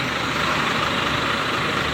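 A Sempati Star double-decker bus turning, its heavy engine producing a steady, close, broadband rumble with hissing air noise and no pauses throughout.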